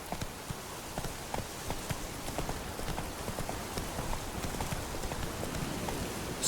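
Roach, a horse in The Witcher 3, gallops with a steady, rapid run of hoof clip-clops. The beats are close and fairly loud and continue throughout.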